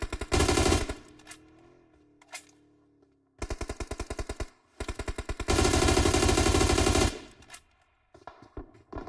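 Bursts of automatic gunfire from the battle-royale game PUBG Mobile during a tournament match: loud rapid volleys, then quieter single shots, then a long sustained spray, with short gaps between bursts.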